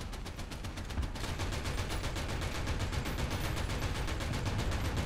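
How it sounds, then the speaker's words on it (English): A .50 caliber machine gun fires in the War Thunder combat game, a long, fast, evenly spaced stream of loud shots with no pauses, heard alone without voices. "50 cal."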